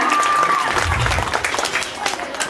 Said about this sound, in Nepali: फेरि एकचोटि जोरदार ताली बजाइदिनु होला